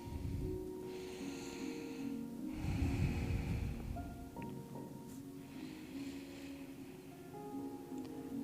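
Slow, audible breaths in and out during a yoga forward fold, soft airy rushes repeating in a calm rhythm, close and quiet over faint background tones.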